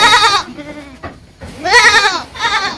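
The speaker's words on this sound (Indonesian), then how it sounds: "Ini kambing-kambing kita." Goats on a farm bleat loudly and close by in a few wavering calls, one long cry followed by a pause, then two more bleats in quick succession.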